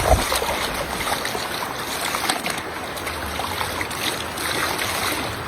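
Steady river water flows and rushes continuously, a broad close-by wash of sound with no voices.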